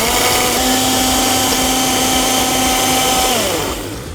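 A blender runs loud and steady, mixing a frosty cocktail of milk, ice and berry-flavored hard seltzer, its motor whirring at a constant pitch for several seconds before winding down.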